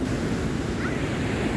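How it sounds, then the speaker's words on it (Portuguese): Ocean surf at Maracaípe beach in Pernambuco, Brazil, a loud, continuous wash of breaking waves mixed with wind rumble, close to the microphone and without speech. "a água aqui é quentinha, dela não animou de vir aqui não, ó. Olha, tanto que a onda bate, olha."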